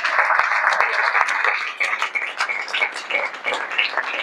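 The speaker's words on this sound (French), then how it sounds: "Si on peut applaudir." A conference audience at a hotel in Kinshasa claps for the president, scattered hand claps building into steady, moderately close applause with some voices in the mix.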